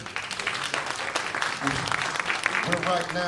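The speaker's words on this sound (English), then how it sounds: "So let's give a round of applause for the NAACP." Crowd applause at a political debate in Atlantic City, a steady wash of many hands clapping at close range with voices speaking over it.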